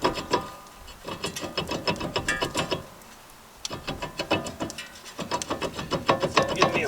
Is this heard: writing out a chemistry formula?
no